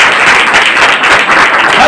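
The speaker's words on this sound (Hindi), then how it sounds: "ताली बजाकर पढ़ोगे।" A church congregation claps together, a dense, loud and continuous wash of many hands with voices mixed into it, sustained throughout without a break.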